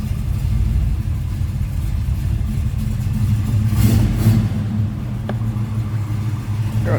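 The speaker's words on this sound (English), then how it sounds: "little rumble coming out of that big block" A 1971 Chevrolet Chevelle Malibu SS 454 big block V8 idling close by, a steady loud deep rumble with a slight swell in the middle and a faint click near the end.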